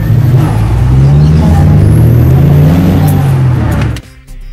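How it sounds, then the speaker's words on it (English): A Nissan March Super Turbo's small engine revs hard and loud with a whining supercharger, holding high revs before abruptly dropping off near the end. "The engine now sounded great"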